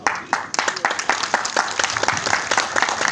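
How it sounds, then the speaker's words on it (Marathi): A crowd at a book event claps loudly and rapidly, a dense burst of overlapping hand claps that carries on without pause. "जोरदार टाळ्या झाल्याबद्दल."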